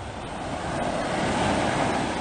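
Waves washing up on the seashore at Haeundae beach in Busan, a steady broad rush of surf that swells slightly louder, with some wind buffeting the microphone and no voices.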